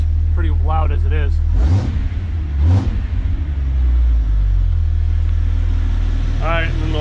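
Truck engine with a Spectre cowl intake installed, revving in sharp bursts that rise and fall over a deep rumbling idle, heard from inside a loud cab with someone talking between revs.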